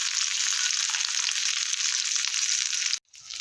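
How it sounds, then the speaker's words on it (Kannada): Chicken cutlets fry in oil in a pan over a medium flame with a loud, dense, steady sizzle for about three seconds, then a sudden cut and a quieter, softer crackle. "ಇವಾಗ ಎರಡನೇ ಕಡೆನೂ ಈ ಥರ ಮೀಡಿಯಮ್ ಫ್ಲೇಮಲ್ಲಿ ಫ್ರೈ ಮಾಡ್ಕೊಳ್ಳೋಣ"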